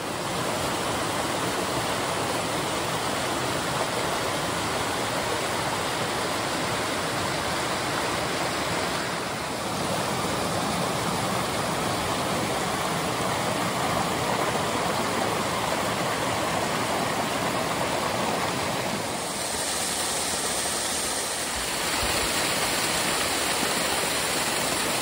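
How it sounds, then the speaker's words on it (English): Lands Run Falls in Shenandoah National Park in January roars as a constant broadband rush of falling water, loud and near, holding steady with slight shifts in tone and no voices. "getting down to the lower part of the falls is really nice, especially in January when there's a lot of water in it"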